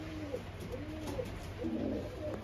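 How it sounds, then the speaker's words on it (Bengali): Soft, low cooing of Pakistani high-flying pigeons, including a golden pigeon, repeating in rounds over a constant background hum, fairly faint and close. "এখানে আছে একটা গোল্ডেন কবুতর আর এটা হলো কামাগার কবুতর"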